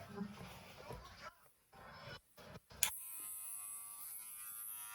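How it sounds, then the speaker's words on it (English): Electric hair clippers cut hair with the clipper-over-comb method, giving a steady, close, high buzz that starts partway through after a person speaks. "I'm going to show you the other way, which is working clipper over comb."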